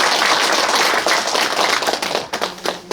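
A gathered audience at a city mayor's New Year neighbourhood visit claps loudly for about two seconds, then the applause thins into scattered, uneven claps and taps.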